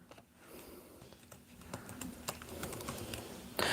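Fingers typing on a computer keyboard, a quiet run of light, irregular key clicks, fairly soft and distant, with a louder burst of noise right at the end.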